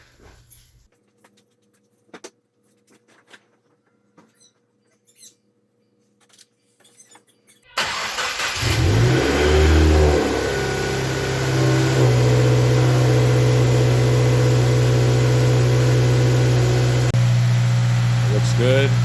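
A 2019 Subaru WRX with a freshly installed Grimmspeed front-mount intercooler fires up after several seconds of quiet clicks, then settles into a loud, steady idle close by.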